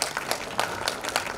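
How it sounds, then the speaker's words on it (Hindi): Audience applause at the inauguration of the 5th Dehradun International Film Festival: a short burst of steady, moderately loud clapping, heard alone. "एक बार जोरदार तालियां"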